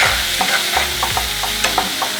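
Black beans and basmati rice being sautéed together in a pan, with a steady frying sizzle and repeated scraping stirs from a utensil, close and fairly loud throughout.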